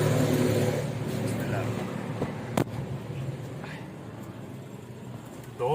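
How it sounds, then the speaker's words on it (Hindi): A parked car is set in motion, and a steady engine and road rumble runs throughout at a moderate level, with one brief knock partway through. "गाड़ी जो है मैंने बाहर ही पार्क की हुई है, क्योंकि फिर बार बार जो निकालना होगा अच्छा नहीं होता। तो बस अभी निकल रहे हैं।"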